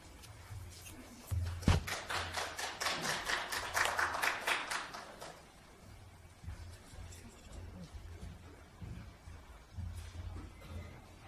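A burst of audience clapping swells for a few seconds in a large city council chamber, then fades, leaving low murmur and room hum.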